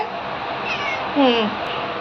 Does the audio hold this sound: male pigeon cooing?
no